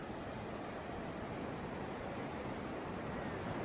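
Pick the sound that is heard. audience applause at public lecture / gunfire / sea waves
sea waves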